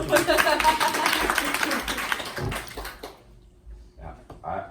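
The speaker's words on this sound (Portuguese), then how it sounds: "Palmas para ela." Audience clapping in a church service, loud and dense for about three seconds and then stopping, with a few scattered voices after it.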